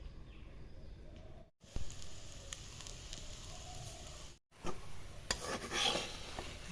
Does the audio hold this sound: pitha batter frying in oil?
yes